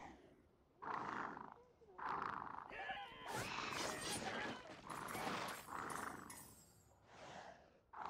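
Cats in the video game Sea Salt give repeated loud, growling roars in bursts. Crashing, clattering game action fills the gaps between the roars.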